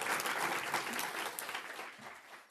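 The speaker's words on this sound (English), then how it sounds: "Could you give them a big round of applause for adopting the charter?" Audience applause after a charter is adopted at a panel event, a dense wash of many hands clapping steadily that tapers slightly toward the end.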